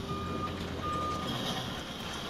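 Reversing beeps from a vehicle in the video game Jurassic World Evolution pulse as steady tones over a dense rumbling engine bed, heard briefly with no talk.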